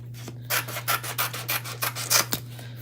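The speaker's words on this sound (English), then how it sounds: "So we're going to trim these transfers down" Rhythmic scraping rubs of trimming chalk transfer sheets for a Chalk Couture patriotic stars project, about ten quick strokes close by over a steady low hum, with no talking.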